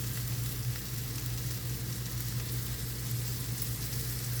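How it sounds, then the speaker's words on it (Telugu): Tandoori chicken pieces fry dry in a pan, giving a dense, continuous close sizzle with a steady low stove hum and no voices. "ఇలా బాగా డ్రైగా వేయించేయాలండి."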